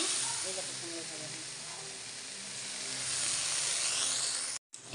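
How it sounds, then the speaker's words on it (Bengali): Pumpkin slices frying in a pan give a steady, close hiss and sizzle that runs throughout, with a faint voice briefly underneath near the start. "কুমড়ো ভাজা দিচ্ছি"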